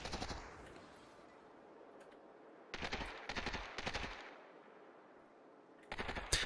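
Bursts of automatic gunfire in the VR shooter Population: ONE during a duos tournament match: a long rattling volley, then three tight bursts, a quiet gap and a final burst, loud and dense with no talk over it.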